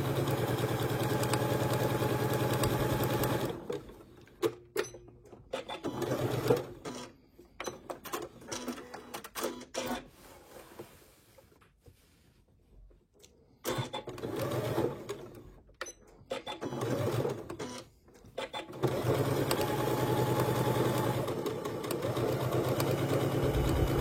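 Sewing machine stitching across the top of fabric, a close steady motor whir running continuously, breaking into short stop-start bursts midway, then resuming its even hum to the end.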